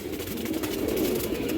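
Pigeons of a dragon line breed coo softly in a steady low murmur that runs through the whole stretch, with a faint broadband hiss above it and no talk.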